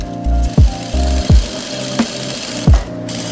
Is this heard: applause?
no